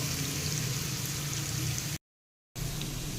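Onions sautéing in a pan for a potato dish make a steady, close sizzling crackle like light rain, broken by a short silent gap before the sizzle resumes.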